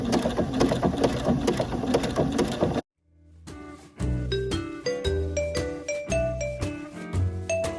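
A home sewing machine runs crazy quilt decorative stitching in rapid, steady mechanical bursts, pauses briefly, then resumes with a rhythmic clatter and light metallic tinkles, close and loud with no talk.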